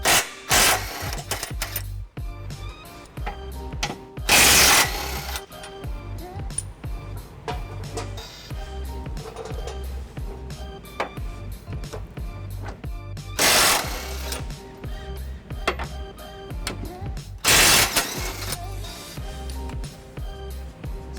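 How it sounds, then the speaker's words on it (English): A power tool with a 21mm socket undoing hitch bolts under a 2017 Dodge Durango, heard as several loud, buzzing rattling bursts separated by quieter stretches of shop noise. "I've got a 21mm socket here to undo these bolts."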